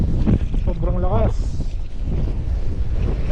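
Strong wind from a Canadian winter storm roars steadily through a close microphone, with a voice talking briefly over the gusting noise.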